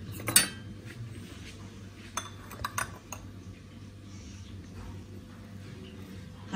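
Potato cutlet ingredients being mixed in a bowl, with a spoon giving sparse metallic clinks and taps against the dish, fairly quiet and close over a low background hum.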